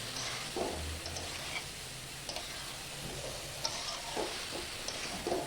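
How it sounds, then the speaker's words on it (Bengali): Mixed vegetables being stirred and fried in a pan for a vegetarian dish, a low continuous sizzle with periodic scraping and tapping strokes of a spatula, close and without speech. "নাড়াচাড়া করে যে ভেজে নিচ্ছি"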